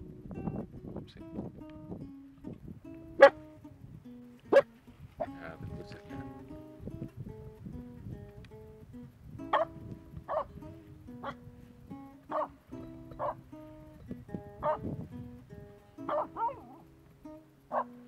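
A Finnish Spitz dog barks and yips repeatedly in short bursts in the rain, some sharp and loud, others softer and whimpering, with rustling movement in between.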